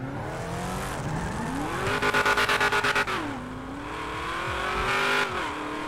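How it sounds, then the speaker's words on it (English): A Mopar car engine in a roleplay video game revs up and down in loud sweeping pitches, with a burst of rapid rhythmic pulses in the middle, then climbs again before easing off. "Not sure why my car sounds like this"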